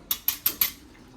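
A spoon tapping against a bowl while whisking sour yogurt, four quick sharp metallic clicks in an even rhythm, close and distinct, then quiet.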